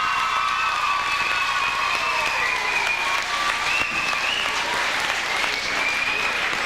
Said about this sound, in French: une bonne main d'applaudissement à nos 5 duchesses